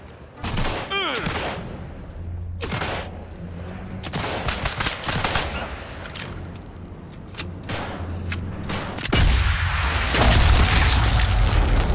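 Sniper Elite 5 gunfire: sharp shots and bursts over rumbling effects, then a heavy boom near the end, with excited talking mixed in.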